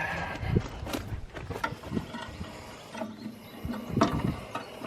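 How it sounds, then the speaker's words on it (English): A sprocket engaging on a fertilizer spreader in a field, giving a run of close mechanical clicks, rattles and clanks at uneven intervals over a low background, with no voices. "Engage our sprocket."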